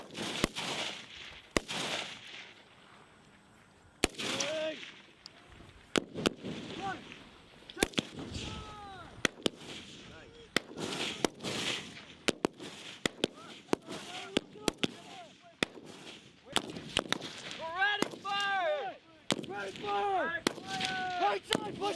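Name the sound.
machine gun firing in live fire exercise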